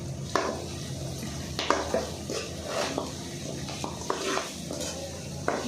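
Mutton curry being stirred together with salt and chili powder in a pan, a steady scraping and clinking of spoon against metal with a faint sizzle, in repeated strokes close by and no talking.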